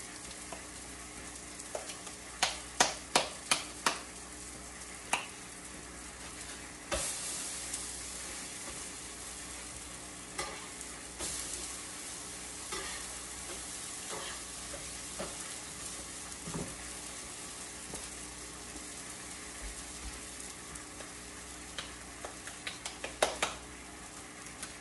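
Zucchini and onion sizzle in a pan as pupusa filling cooks, a steady close frying hiss with occasional stirring scrapes and utensil taps.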